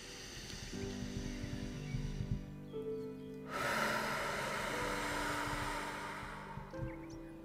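A long, steady breath blown out during an EFT tapping exercise, a soft breathy rush lasting several seconds over a low background drone.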